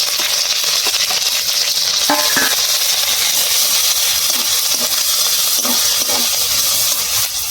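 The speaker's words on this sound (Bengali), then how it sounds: "তেল গরম হয়ে গেছে শুটকি মাছ বাটাটা দিয়ে দেবো" Dried fish (shutki) paste hisses and sizzles steadily in hot oil with garlic and onion, a loud continuous crackle punctuated by a few stirring scrapes and knocks.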